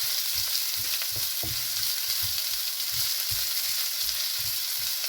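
Large onions frying in oil for paruppu urundai kuzhambu, a dense, even crackling sizzle held at a constant level, with low rhythmic stirring thumps underneath and no talk.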